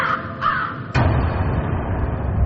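A crow caws at night in a horror-story setting; a harsh call at the start is followed by a sudden loud noisy burst near one second that then settles into a steady rumbling wash.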